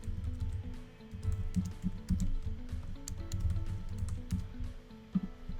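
An email address is typed on a computer keyboard: close, quick, irregular key clicks in short bursts with small pauses, no talking.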